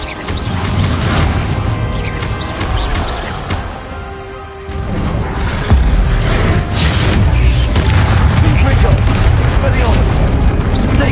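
A Bombarda blasting spell in a Harry Potter video game, heard as a dense, loud barrage of crashing blasts and whooshes that keeps going almost without a break, with a brief lull partway through.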